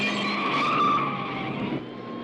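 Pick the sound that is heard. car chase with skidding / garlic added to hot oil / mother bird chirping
car chase with skidding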